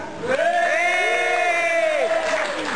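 A comedy open-mic crowd claps and cheers, with a held whoop rising over a steady bed of applause for a couple of seconds before easing off.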